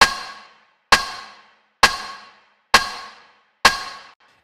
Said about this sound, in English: I just added some overdrive and some reverb, and then I layered that with a rim shot with some reverb